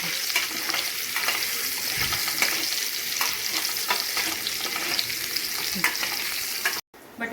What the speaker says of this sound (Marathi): त्याच्यामध्ये मी सर्व बटाटे ॲड करते आणि आपल्याला सर्व बटाट्यांना शालो फ्राय होईपर्यंत फ्राय करून घ्यायचं।